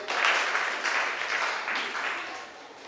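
An audience at a children's stage event applauds their trainers with a steady, moderately loud wash of clapping that fades slightly toward the end.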